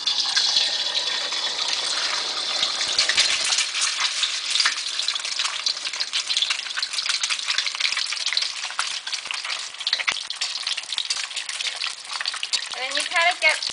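An egg deep-frying in about an inch of hot vegetable oil in a pan, a loud, continuous crackling sizzle with spattering bursts, as hot oil is spooned over the top of the egg.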